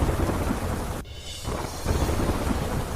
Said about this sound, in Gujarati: અમદાવાદ શહેરમાં ફરી જામ્યો વરસાદ